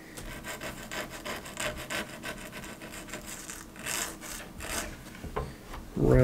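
Sandpaper rubbed back and forth over the end of a piece of aluminum tubing, a steady close rasping scrape in repeated strokes, moderately loud with no talking.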